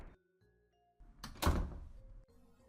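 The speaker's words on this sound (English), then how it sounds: "After closing the door behind yourself," A door swings shut with a single solid thunk up close, preceded by a soft sliding movement and followed by faint room tone.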